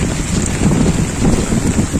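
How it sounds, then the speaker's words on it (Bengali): Strong gusting wind from Cyclone Remal roars across the microphone in a steady low rumble, with heavy rain falling at dusk near a riverside ghat; no voices. "প্রচুর বাতাস বেগে বাতাস বয়ে যাচ্ছে।"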